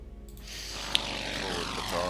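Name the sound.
fighter plane flying, from the video game Order of Battle: WW2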